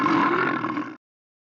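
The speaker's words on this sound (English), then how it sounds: "This is the sound a bear makes." A bear lets out a single short, deep growling grunt under a second long, close and loud, which cuts off abruptly into silence.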